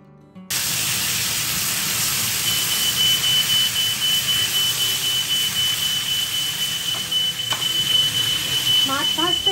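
A kitchen smoke alarm sounds while fish fries, a steady high-pitched electronic tone holding over loud hissing noise for several seconds, with a few brief clicks near the end.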